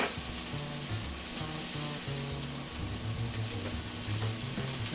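Onions stir-frying in a pan over medium-low heat, a soft continuous sizzle with light crackling and faint scraping, steady and close with no talk.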